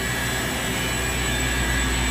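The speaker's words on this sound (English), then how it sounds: "This here's their air compressor here." An industrial air compressor on a variable frequency drive runs loud and close, a steady broadband roar with high tonal whines held throughout, with no clear change in speed over the short stretch.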